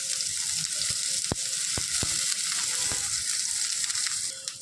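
Chopped onion and tomato with cumin sizzle loudly in hot mustard oil in a kadai, a dense continuous hiss broken by several sharp utensil clicks.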